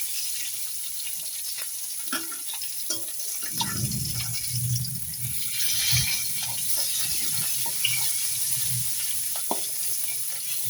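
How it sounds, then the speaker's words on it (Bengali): Fish sizzles and crackles in oil in a frying pan, a steady hiss with scattered pops and occasional stirring scrapes, close by in a home kitchen. "এপাশে রান্না করছি মাছগুলো আর একটু ভেজে নিচ্ছি।"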